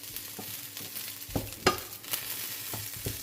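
Potatoes frying in a pan are stirred with a few sharp scraping strokes over a steady low sizzle, with no talking.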